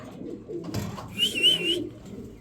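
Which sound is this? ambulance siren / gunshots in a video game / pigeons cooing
pigeons cooing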